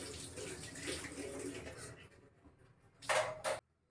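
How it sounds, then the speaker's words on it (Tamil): Water splashes and pours into a blender jar for a couple of seconds, followed by two short louder pours, close up, while making fish gravy. "மொத்தமாக 3 டம்ளர் தண்ணி ஊற்றணும்"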